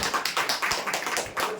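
An audience at an indoor training meeting claps loudly and close by in quick, dense bursts that rise and fall rhythmically. No one speaks.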